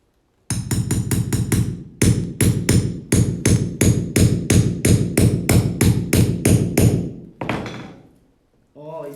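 Rapid hammer strikes land in quick bursts, about twenty sharp, loud blows in fast runs with short pauses, close by and echoing in a room, ending in a scraping clatter.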